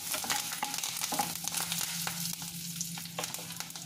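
Curry leaves and tempering spices sizzle in a little hot oil in a kadai for an okra fry, a steady close hiss broken by sharp crackling pops and the scrape of stirring.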